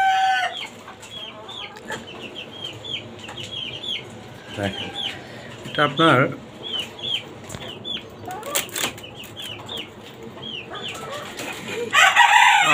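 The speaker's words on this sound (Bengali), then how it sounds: "এটাকে হোয়াইট রোস্টার বলে" White Rooster chickens, an English breed, on a rooftop farm keep up rapid, scattered clucking with a few louder squawking bursts and brief wing flapping near the end, while someone talks close by.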